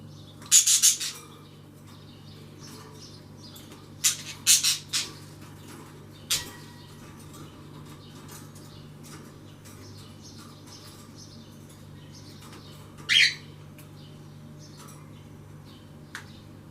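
A parrot on a balcony gives a few sharp, bright squawks and chirps in short bursts, separated by long pauses over a steady low hum in a quiet room.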